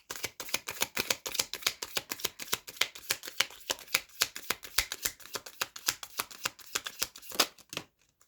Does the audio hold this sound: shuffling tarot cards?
yes